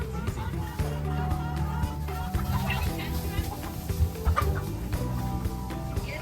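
Dense clucking from a large flock of around fifty farm chickens fills the scene, close and continuous, with a person briefly speaking over it.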